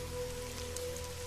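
Rain falls steadily as a dense, even hiss of drops on surfaces, continuous and moderately faint beneath a low steady hum, with no voices.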